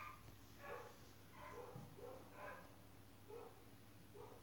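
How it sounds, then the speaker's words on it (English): Dog barking several times in short repeated bursts, faint and somewhat distant indoors, with no talk over it. "that's my dog's barking right now"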